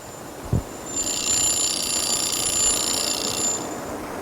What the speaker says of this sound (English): The same car, it has a car alarm going off again